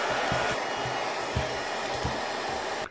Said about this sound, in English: We'll insert it into our shrink wrap sleeve and apply heat to get it as tight as possible.